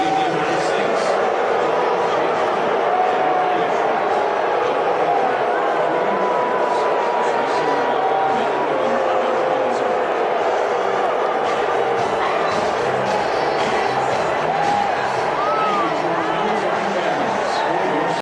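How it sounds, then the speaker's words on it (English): A large political rally crowd boos loudly and steadily, a dense continuous roar of voices from many people at a distance, with scattered shouts rising above it throughout. "And there was a lot of booing."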